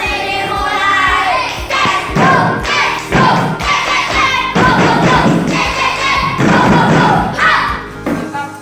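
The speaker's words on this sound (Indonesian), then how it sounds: "Sebelum itu juga kita mulai dengan tepuk konsentrasi" Elementary class performing a rhythmic concentration clapping chant, loud patterned claps and thumps in bursts alternating with group shouting and chanting voices.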